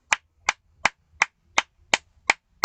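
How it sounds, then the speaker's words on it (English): Eight sharp, evenly spaced hand claps ring out alone in a quiet room, crisp and close with a steady rhythm. "if I start clapping like this"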